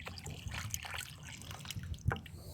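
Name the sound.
water poured onto a newly planted fruit tree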